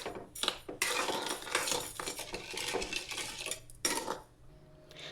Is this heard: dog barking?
no